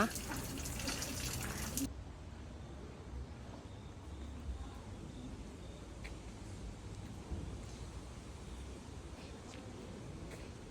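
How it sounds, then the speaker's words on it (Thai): Water running and splashing at a Japanese shrine's hand-washing basin, a steady trickle with a louder burst at the start, then continuous soft flow with faint background voices. "ต้องมาล้างมือที่ตรงนี้นะคะ"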